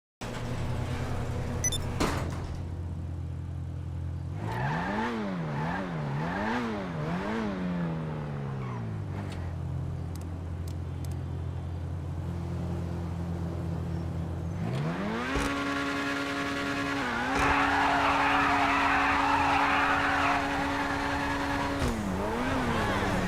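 A Lampadati Corsita sports car in a racing video game drives steadily, its engine note climbing and falling through gear shifts with brief tire squeal, then revving up to a loud, sustained high whine near the end; no one speaks.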